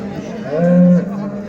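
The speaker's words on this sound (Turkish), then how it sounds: "Bir de bakalım burada bir tane buzağlı inek var." A cow with her calf at a livestock market in Göksun gives one loud, close moo lasting about half a second, rising out of a steady murmur of market background noise.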